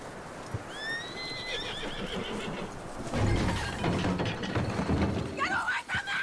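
Horse in Red Dead Redemption 2 whinnies with rising and falling tones, then hooves clop and thud on the ground, with a second shrill neigh near the end and game voices murmuring faintly underneath.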